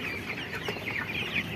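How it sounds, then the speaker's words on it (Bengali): A 21-day-old farm-raised chicken clucks softly at close range in a steady, murmuring run of calls, with no talking. "এটা হচ্ছে একটা মুরগি"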